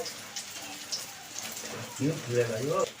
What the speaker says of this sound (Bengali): এই যে টস টস করে জল পড়েই যাচ্ছে